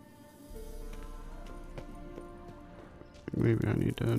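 Horse hooves clopping in the Witcher 3 video game, faint steps under steady game ambience before a louder burst of game sound near the end.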